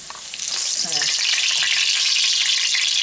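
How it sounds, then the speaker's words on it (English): Loud, steady sizzling and crackling of dough frying in hot oil, filling the whole clip without pause. "And while this is frying"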